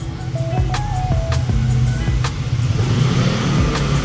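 Lambretta V125 scooter engine heard while riding, a steady, fairly loud motor drone with a few brief high tones and clicks over it and no talking.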